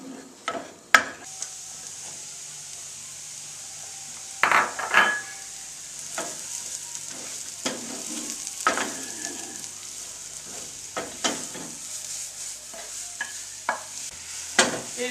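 Mushrooms sautéing in melted butter, a continuous gentle sizzle broken by intermittent scrapes and clacks of a wooden spoon against the pan.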